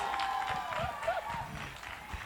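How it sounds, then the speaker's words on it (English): Audience applause at a taiko drumming competition livestream, a continuous wash of clapping with some crowd noise and a faint tonal whistle-like sound running through, moderately quiet and sustained throughout. "Let's give him a round of applause."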